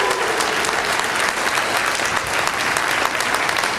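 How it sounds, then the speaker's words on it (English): Steady, loud applause from a wedding crowd cheering the bridal party, continuous clapping filling the room for several seconds. "give them a round of applause, absolutely"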